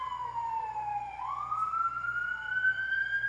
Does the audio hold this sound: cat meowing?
no